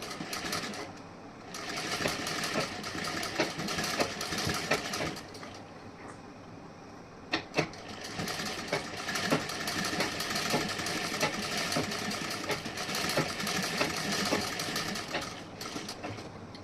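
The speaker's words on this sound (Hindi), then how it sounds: "अब सीधा करने के बाद यहाँ पे स्टिचिंग करूँगी इस तरीके से।" A sewing machine stitches a princess-cut blouse with lace trim, its motor whirring in long, dense runs of rapid needle strokes, slowing briefly near the middle before running steadily again, close and prominent.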